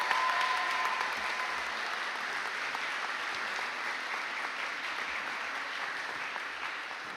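High school honor society induction ceremony audience giving a round of applause, a steady, moderately distant wash of clapping with a faint tone early on.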